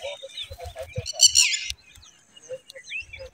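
A bird calls loudly and insistently near its eggs in a vegetable farm field, giving rapid chirps and sharp trilled bursts in close succession, nearby and clear over low background noise.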